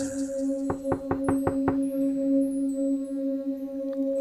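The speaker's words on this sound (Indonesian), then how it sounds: "ada suara ketukan pintu di apartemenku" Knocking on an apartment door: a quick run of six sharp, evenly spaced raps, loud and close, over a steady electronic hum, followed by quiet.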